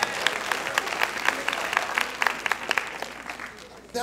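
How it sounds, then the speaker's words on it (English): A church congregation claps hands in praise, a dense round of applause with distinct sharp claps, fading slightly toward the end. "Now let's give God a hand clap of praise."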